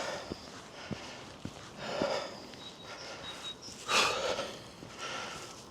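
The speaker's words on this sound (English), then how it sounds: "You'll tell how hard it gets by the heavy breathing." A hiker breathes heavily while climbing uphill in the rain on Darland Banks: close, quiet, labored breaths and snorts come in uneven bursts over soft rain and footstep noise.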